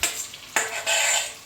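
Chicken fries in hot ghee for a home-cooked chicken biryani, giving a steady hiss and sizzle broken by a sharp stirring scrape, close and loud, with no voices.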